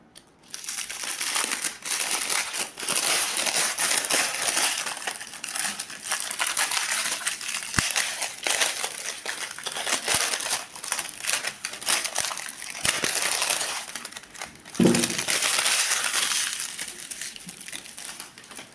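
An electrical contactor being unpacked, with steady plastic and packaging crinkling and crushing close up for most of the stretch, punctuated by a few sharper knocks and handling sounds.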